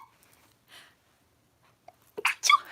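A single person sneezes close to the microphone, with a sharp breathy burst at the end of a quiet stretch broken only by a little faint breathing.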